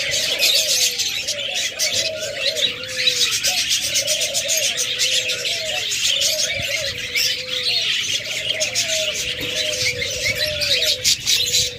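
Pairs of big caged lovebirds kept with chicks call nonstop, a steady series of repeated chirping notes layered over a bright, dense hiss of more bird chatter, loud and close throughout.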